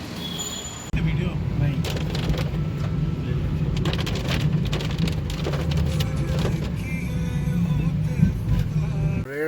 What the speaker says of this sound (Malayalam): മഴയുടെ എന്തോ സൗണ്ടായിരിക്കുന്നു.